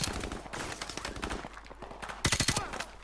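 Bursts of automatic gunfire in Call of Duty Modern Warfare Remastered, sharp rapid shots in clusters with a loud volley near the end, under a man's speech.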